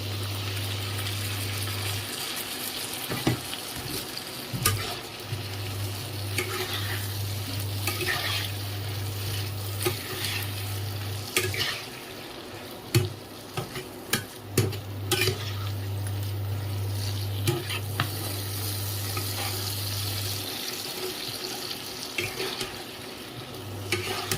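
Chili chicken fries and sizzles steadily in a pan while prepared sauce is stirred in, with scraping spatula clicks and knocks over a constant low hum.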